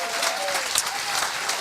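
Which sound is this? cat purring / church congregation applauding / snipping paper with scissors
church congregation applauding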